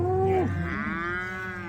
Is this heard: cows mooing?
yes